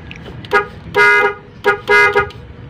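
NHAY 3+PRO MUSIC 8-tone electronic car horn sounding its fifth tone: a loud, close, buzzy musical pattern of two short toots followed by a longer blast, repeated twice, with brief gaps between.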